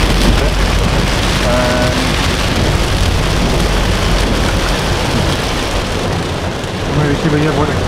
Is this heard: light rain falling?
yes